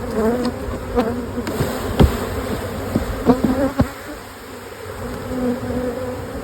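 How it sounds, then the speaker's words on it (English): Dense, steady buzzing of many honeybees swarming over a crowded beehive frame, close and continuous, with a few sharp knocks and taps from handling the hive. "so full of bees."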